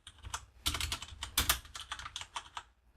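Typing on a computer keyboard, a steady run of close, crisp key clicks with brief pauses and a few louder strokes, with no talking.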